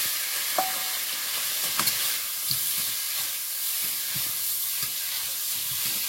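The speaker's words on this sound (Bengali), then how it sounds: "কই মাছটা এখানে ভাজা হতে লাগে।" Koi fish sizzles steadily in hot oil in a home kitchen, a constant close frying hiss with a few faint clinks from the pan and no talking.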